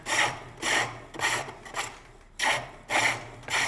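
Carved wood being polished by hand with rough dogfish skin in a Tudor monastery farm setting: about seven close, rhythmic rasping strokes with short pauses between them.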